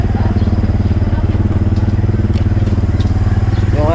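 A motorcycle engine idles steadily close by, its rapid even thumping pulse continuous and loud throughout with no talking.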